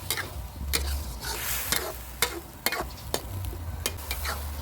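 Thai eggplant stir-fried in sauce in a pan over raised heat, with a steady close sizzle under irregular scraping stirs and a few sharp clicks of the utensil against the pan.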